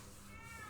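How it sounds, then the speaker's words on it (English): House cats meow faintly in the background of an indoor room, a short, quiet mewing cry over a low, hushed backdrop. "you can definitely hear my cats in the background."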